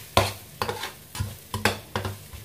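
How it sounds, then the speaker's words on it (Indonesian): Spice paste sautéing in a pan for East Javanese ayam lodho, with a steady sizzle broken by about six distinct scraping stirs, close and fairly loud, no voices. "Tumis bumbu sampai matang dan berubah warna kecoklatan."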